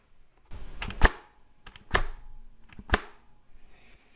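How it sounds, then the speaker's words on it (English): Three sharp mechanical keyboard key clicks about a second apart, each with a bright metallic spring ping trailing off, close up and alone. "There's this super annoying metal springy sound whenever you press or release a button."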